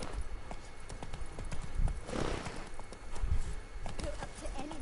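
Roach, Geralt's horse in The Witcher 3: Wild Hunt, trots along in a steady clip-clop of hooves, close and fairly loud against quiet game ambience.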